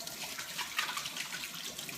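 Tap water runs steadily into a sink as hands are washed beneath it, a continuous close splashing hiss with no talk.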